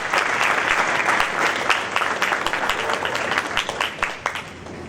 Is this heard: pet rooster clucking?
no